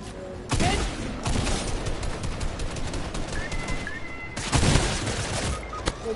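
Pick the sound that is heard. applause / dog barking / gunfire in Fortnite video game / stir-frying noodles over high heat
gunfire in Fortnite video game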